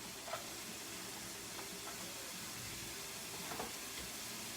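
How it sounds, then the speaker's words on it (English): Shredded carrots sautéing in a pan, a quiet steady sizzle with faint occasional clicks of stirring, no talk. "We're going to saute that till it's tender."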